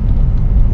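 Car tires rumble over cracked, worn pavement on a road overdue for repaving, a steady, loud low roar with uneven bumps throughout and no talking.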